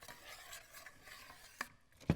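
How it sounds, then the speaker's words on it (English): Cooked carrots are stirred into a cheesy chicken casserole, giving a soft, faint scraping and shuffling with a couple of sharper knocks near the end, heard close without talk. "Add our carrots, our cooked carrots, back in and stir it all together"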